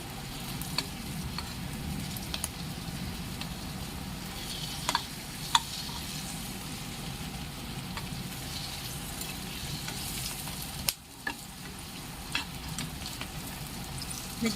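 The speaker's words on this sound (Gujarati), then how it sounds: "હવે આપણે મરચાંને શેકાવા દેવાના છે." Stuffed green chillies roast in a pan with a steady, soft sizzle and frying crackle, with occasional faint ticks and a brief dip near the end.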